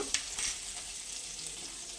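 Hot oil sizzles steadily as Kashmiri red chili powder meets softened tomatoes in a pan while cooking katla fish, a brief bright crackle near the start over a continuous close frying hiss.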